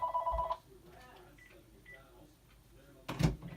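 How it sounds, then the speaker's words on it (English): A telephone gives a short electronic ring right at the start, then falls quiet under a faint room hum, and a single loud thump lands near the end. "Oh, that's the phone."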